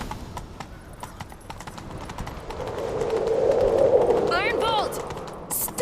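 Horse hooves gallop in The Witcher 3 as a steady clip-clop rhythm that builds to a louder rumble midway, with a short whinny near the end and voices in the scene.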